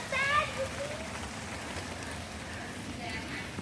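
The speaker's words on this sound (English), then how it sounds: "I can hear a little bit more rain." Steady patter of rain dripping through foliage fills the clip, with a brief faint chirp near the start.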